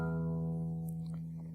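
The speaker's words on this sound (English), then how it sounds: "so let's play string 6." A single open low-E sixth string on a guitar rings out sustained and fairly quiet, a steady harmonic-rich tone decaying slowly with no talking.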